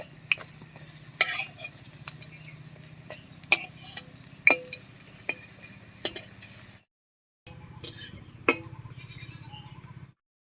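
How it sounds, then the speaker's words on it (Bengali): Mung dal fritters frying in mustard oil in a kadhai: a soft low sizzle under irregular sharp clinks and taps of a utensil, with one brief silent gap partway through. "এবার কড়াইয়ে সর্ষের তেল দিয়ে বড়াগুলো ভেজে নেব"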